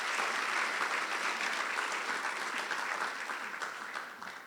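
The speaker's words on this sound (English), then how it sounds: "Just a huge round of applause for all of you." Sustained audience applause for senior athletes at an end-of-year athletic awards event, a dense wash of many hands clapping that fades slightly toward the end, with no voices over it.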